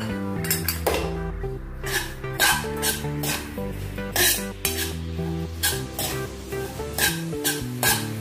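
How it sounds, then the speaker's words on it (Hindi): Split mustard seeds roasting in a pan for mango pickle: repeated scraping and clinking of a metal utensil against the pan in an uneven rhythm, close and fairly loud, with faint sizzle underneath. "राई की दाल, वो इसमें भुनेंगे"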